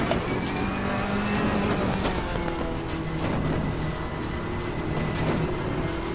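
Race car engine in the sim Assetto Corsa Competizione, driven slowly on cold tires with a direct-drive wheel, hums and revs at moderate, steady pitch, continuous and close with slight rises and falls.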